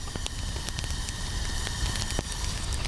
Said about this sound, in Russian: вот уже поставлен котелочек на огонь. И слышно даже характерное шипение.